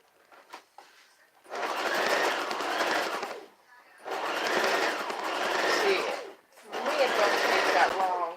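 Sewing machine stitching fabric tubie pads in three long runs of steady rapid whirring, each a couple of seconds, with short pauses between, close and fairly loud.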